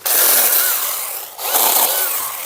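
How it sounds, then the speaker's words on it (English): A 6-inch NaTiddy mini chainsaw cuts through a large downed tree limb, its high buzzing whine running steadily, dipping briefly as the load changes, then surging again, close and loud. "NaTiddy mini chainsaw versus down tree."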